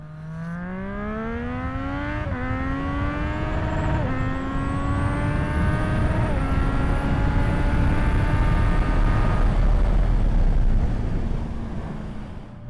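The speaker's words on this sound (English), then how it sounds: "Yeah, so I hit the rev limiter a couple times." A Triumph Street Triple motorcycle engine revs hard and close, climbing in pitch through several quick gear changes before hitting the rev limiter, a continuous loud howl with no talking.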